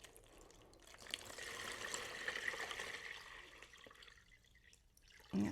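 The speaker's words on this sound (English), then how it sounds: "Let's get this full of water." Water runs steadily into a homemade hummingbird birdbath fountain as a soft, continuous splashing pour at moderate distance, easing slightly toward the end before a short knock; no one talks over it.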